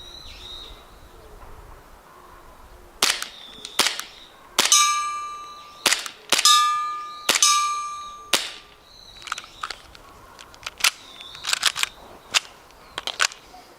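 A WE Glock 19 gas blowback airsoft pistol fires a dozen or so sharp, snappy shots, some singly and some in quick pairs. Each shot carries a metallic ring from the cycling slide, and the shots sound close in a quiet room.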